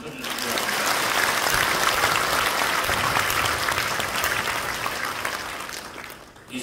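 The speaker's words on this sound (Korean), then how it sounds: "우리 서로 감사하는 의미에서 박수 한번 쳐주시기 바랍니다." Worshippers at a church installation service applaud together, a full, even roar of clapping from a large gathering that rises quickly, holds steady and fades before a brief voice at the end.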